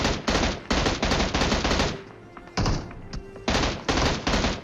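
M16 rifle gunfire in PUBG Mobile, heard as loud rapid automatic bursts close up, with a short pause in the middle before the firing resumes.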